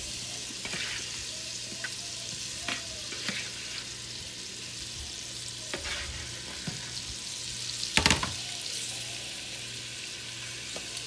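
Shrimp sizzle steadily in a pan over low heat for Cajun fettuccine, a constant close frying hiss broken by a few sharp utensil clicks and scrapes, with one louder clatter near the end; no one speaks.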